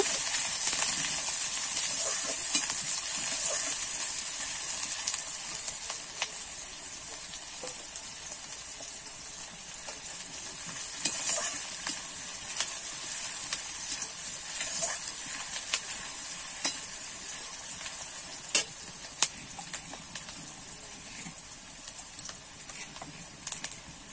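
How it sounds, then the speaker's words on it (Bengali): Chopped onion frying in oil gives a soft, steady hiss with scattered faint crackles and light clicking taps, fairly quiet and continuous throughout. "এবারে কুচিয়ে রাখা পেঁয়াজটা দিয়ে দেবো। পেঁয়াজটা একটু লাল লাল করে ভেজে নেব।"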